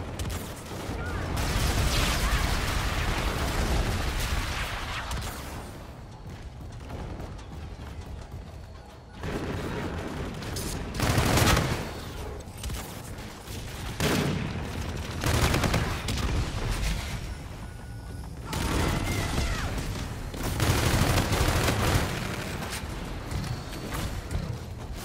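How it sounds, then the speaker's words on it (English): Bombardment in a video game: dense bursts of gunfire and explosions roll on continuously, rising and falling in heavy waves over a sustained battle din. "bombardment incoming."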